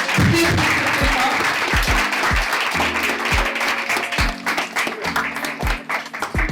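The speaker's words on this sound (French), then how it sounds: "Je vous demande juste de l'applaudir vraiment très très fort." Applause from guests at a restaurant inauguration, steady crowd clapping in a room, with music and a voice carrying underneath and loud throughout.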